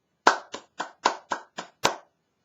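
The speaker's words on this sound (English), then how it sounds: "But I will clap for you" A single person claps seven times, each clap sharp, close and isolated, in a slightly uneven rhythm over about two seconds with silence between.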